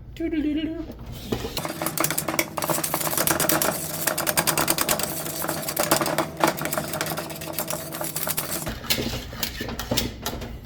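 A whisk beating pastry cream in a bowl, a rapid continuous rattling and clatter of wire against the bowl, loud and close, with talking over parts of it.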